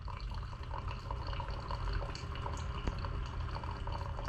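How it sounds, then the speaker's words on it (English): Steady watery gurgling and trickling from a Keurig coffee maker pumping water through, with a constant low machine rumble underneath and no talking. "Here we are pumping the water out."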